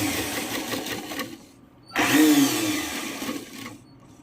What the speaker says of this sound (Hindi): मैं सिलाई थोड़ी दूर और करके दिखाती हूँ।